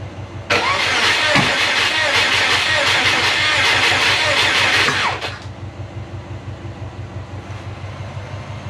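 A Subaru Forester engine cranking over with injectors disabled during a spark test: a loud starter whir with a fast rhythmic pulse for about five seconds, then it stops, leaving a lower repeating thrum.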